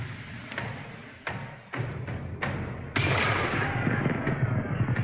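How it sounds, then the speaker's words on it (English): Ship cannons fire in the naval combat of Pillars of Eternity II: Deadfire, a few separate heavy booms spaced apart, then a louder, denser barrage of blasts rumbling on continuously at the end. "how come only 1 cannon is firing?"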